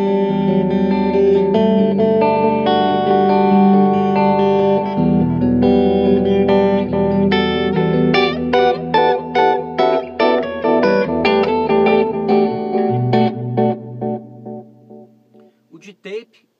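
An electric guitar plays through a Flashback delay and looper pedal in analog delay mode, sustained chords giving way to picked notes whose dark, softened repeats trail off and fade toward silence.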